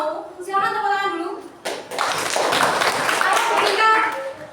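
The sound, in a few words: class clapping hands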